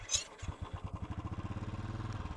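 A motorbike is eased forward, its engine thudding in a close, even putt-putt rhythm that speeds up slightly, with a brief clatter at the start.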